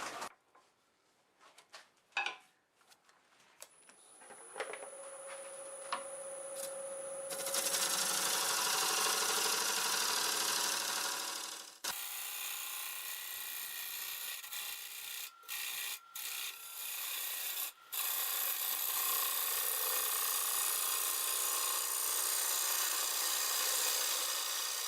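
Walnut spinning on a wood lathe is rounded over with a gouge, giving a loud continuous rushing, scraping cut near the tool that builds up after some scattered handling knocks and breaks off in a few short pauses.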